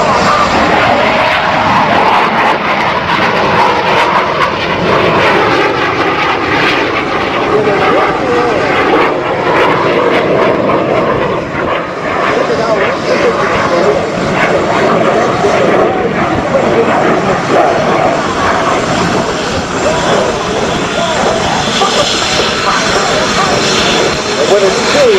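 A twin-engine jet with two F404 engines producing 32,000 pounds of thrust roars loudly and steadily throughout at an air show, a dense broadband wash with continuous commentary over it.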